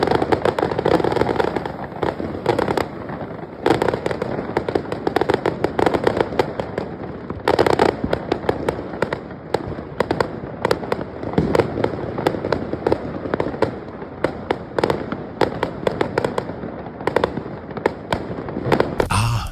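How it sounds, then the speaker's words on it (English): New Year fireworks bursting and crackling continuously for about twenty seconds, loud dense pops and bangs with brief lulls, no voices. "a moment of fireworks is about to follow"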